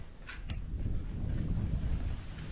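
Steady, blustery typhoon wind roars across the microphone, a low rumbling rush that stays loud and constant throughout with no voices.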